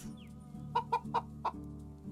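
Chickens and a rooster clucking in the medieval farming game Medieval Dynasty, with four short, distinct clucks in quick succession over a constant low in-game ambient hum, close and moderately loud.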